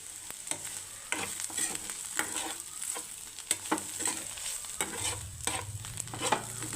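Cauliflower stir-frying in a pan after chilli flakes go in, for a Kerala-style vizhukkuvaratti: a steady soft sizzle with repeated scraping stirs and occasional clinks, moderately close, with no voices.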